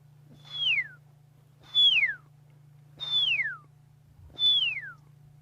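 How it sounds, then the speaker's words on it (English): A pearl-spotted owl calls four times at an even pace on an evening safari in the African bush, each note a clear descending whistle, moderately loud over a steady low hum. "And there you can hear a pearl-spotted owl."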